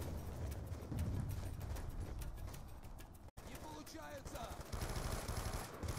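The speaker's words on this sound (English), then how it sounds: "They're shooting at something here." Gunfire in the Black Ops 2 mission Old Wounds, fairly quiet rapid automatic bursts and rattling shots mixed with other game noise and a voice talking over it, with a brief dropout partway through.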